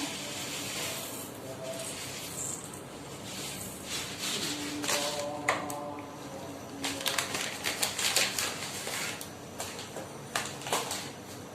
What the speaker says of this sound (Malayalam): ഇനി അതിലേക്ക് ആവശ്യത്തിനുള്ള കടുക് ഇട്ടെടുക്കാം.